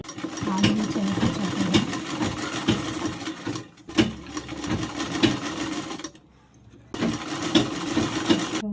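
A sewing machine runs a straight stitch along a blouse hem, its rapid mechanical chatter close and steady, with a brief pause near the middle and another before it starts up again.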